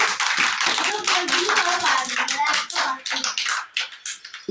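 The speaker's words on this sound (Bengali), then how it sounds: "হাততালি দাও, হাততালি দাও" Young children clap their hands together at a preschool activity session in Kaliganj, a close, lively burst of overlapping claps that runs steadily for several seconds.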